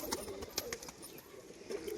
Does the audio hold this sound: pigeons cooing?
yes